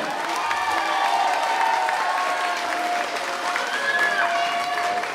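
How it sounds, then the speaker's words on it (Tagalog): Steady, loud applause from a large crowd at a leaders forum, a dense even clatter of clapping with no pauses. "isang napakalakas na palakpak para kay Mayor Jun Bernabe."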